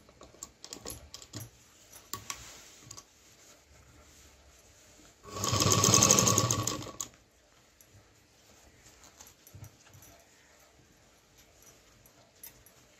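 A sewing machine runs in one loud burst of about two seconds, stitching a zipper onto a homemade tiffin bag, with quiet handling and fabric rustle before and after.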